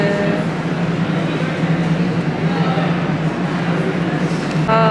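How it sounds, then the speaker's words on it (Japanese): A New York City subway train rumbles steadily for several seconds, a dense, loud wash of rail and car noise with a constant low hum and faint squeals. "この地下鉄はこんな感じで。"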